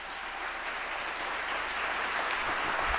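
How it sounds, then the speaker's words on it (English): An audience at a State of the City address claps steadily in a continuous round of applause that swells slightly toward the end. "One more round of applause."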